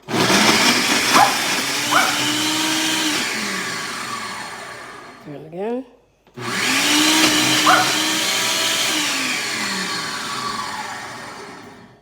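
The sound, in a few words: blender blending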